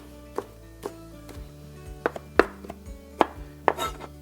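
Knife chopping spinach on a cutting board while making chicken gnocchi soup: separate sharp chops land at an uneven pace, close up and moderately loud, and no one speaks.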